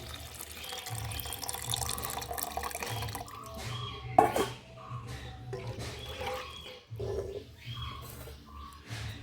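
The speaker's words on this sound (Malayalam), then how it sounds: "ബീറ്റ്റൂട്ട് വേവിച്ച വെള്ളമാണ്, അത് ഞാൻ ഇങ്ങോട്ട് ഒഴിക്കുവാണ്." Beetroot cooking water being poured into a pot, a splashing, trickling stream in bursts with small clinks, close by and moderately loud.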